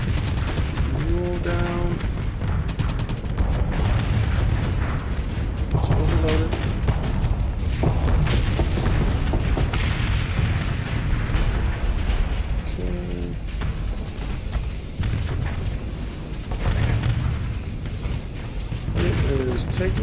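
Spaceship weapons fire in repeated volleys with booming explosions during a Starsector space battle, dense and continuous with a voice talking over the combat.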